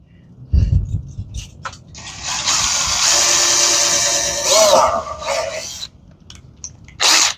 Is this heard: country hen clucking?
no